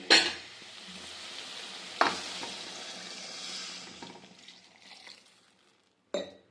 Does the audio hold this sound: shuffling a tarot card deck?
no